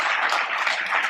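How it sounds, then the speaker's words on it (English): Audience applause for speaker Jacob at a general session of the Purpose Summit, a brief, dense burst of clapping from a crowd. "Let's give another round of applause for Jacob."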